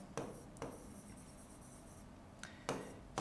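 Short scratchy strokes of writing on a board during a physics lecture on wave optics. A few separate swipes stand out over a quiet room.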